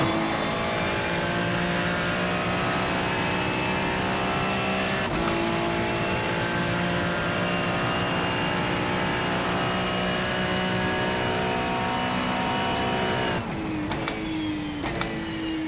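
Continuous high-pitched engine drone of GTP race cars lapping in the iRacing video game at the Le Mans 24 hours, a steady loud whine with gear-shift dips and a brief change in pitch as another car goes by near the end.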